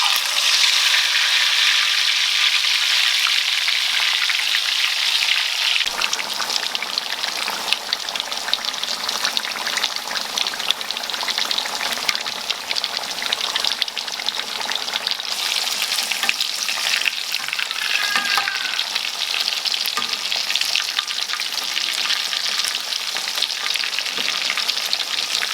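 Fish fries in hot oil in a home kitchen with a steady, dense sizzle and crackle throughout, growing brighter after the first few seconds, with no talking.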